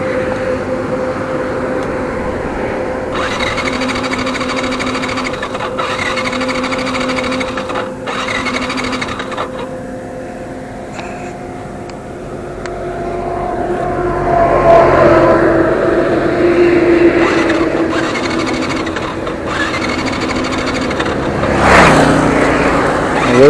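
A motorbike engine seized from running without oil is being started on a solo ride in Uttarakhand: a continuous rhythmic mechanical whirr that swells midway, with a sharp louder burst near the end and no talking.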